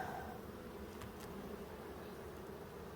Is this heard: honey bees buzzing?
yes